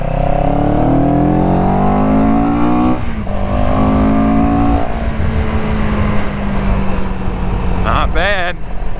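A CFMOTO CLX 700 motorcycle accelerates through the gears, its engine note rising in pitch, dropping at a shift, then climbing again, loud and close with wind rush around it.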